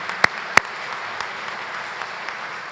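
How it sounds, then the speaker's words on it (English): Audience at a dinner applauding sponsors, a thin steady patter of clapping with a couple of sharp close claps near the start, fairly light and without voices. "Let's give a big round of applause to all our sponsors this evening."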